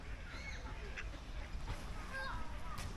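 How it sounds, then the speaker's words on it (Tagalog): Mallard ducks quack in a busy park pond at Vivary Park, Taunton, scrambling for bread, giving faint, scattered calls beneath ongoing talk and background bustle. "Mallard pala yan."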